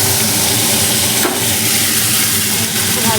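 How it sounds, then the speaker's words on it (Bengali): Fish fries in a pan with a loud, steady hiss and sizzle that runs unbroken throughout, close up, with faint clinks from the kitchen. "মাছটা ভেজে নিয়ে আগে"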